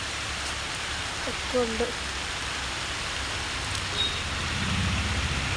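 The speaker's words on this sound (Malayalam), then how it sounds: "പച്ചക്കറി പറിക്കാൻ ഇറങ്ങിയപ്പോൾ നല്ല മഴ പെയ്യുന്നുണ്ട്." Steady rain falls outdoors over a home vegetable garden during harvesting, a constant soft hiss throughout, with a brief voice speaking near the start.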